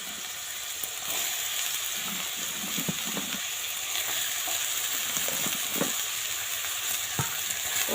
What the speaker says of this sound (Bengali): তেজপাতা রাঁধুনি ফোড়ন দিয়ে লাউটা এর মধ্যে আস্তে আস্তে করে ছেড়ে দেবো।